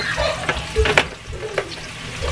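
Broccoli and onions sauté in a hot pan, giving a short burst of close sizzling with a few scraping stirs and light utensil knocks.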